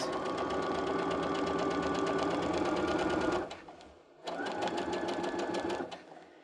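A sewing machine stitches along a fabric dart in two fast, steady runs separated by a short pause, close and clear with no talk.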